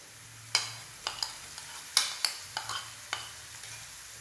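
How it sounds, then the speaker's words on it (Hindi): Onion and crushed garlic and ginger frying in a pan for dhaba-style aloo gobi, with soft sizzling under a series of sharp stirring scrapes and clinks, close and fairly quiet. "अब हम इसमें लहसुन और अदरक जो कुटा हुआ है वो ऐड करेंगे।"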